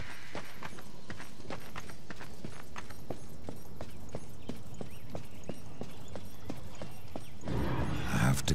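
Regular hoof beats of a horse in the video game Darksiders 2 clip-clopping at a steady pace, clear and close, with a louder noisy rush near the end.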